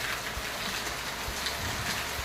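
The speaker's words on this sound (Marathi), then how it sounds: "आपलं लातूर आणि लातूरचा पाऊस बघा सकाळी सकाळी नऊ वाजता" Morning monsoon rain falls steadily in Latur, a soft, even hiss with occasional low thumps and no voices.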